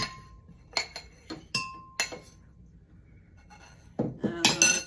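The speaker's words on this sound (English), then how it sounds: "to the blender here, I am adding in 2 avocados" Two pitted avocados going into a blender jar for ice cream, a series of sharp clinks and knocks against the glass, spaced irregularly, then a cluster of louder clattering bumps at the end.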